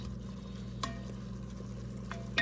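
Lean ground beef browning in a pan, a faint steady sizzle with a couple of brief stirring scrapes, quiet and close.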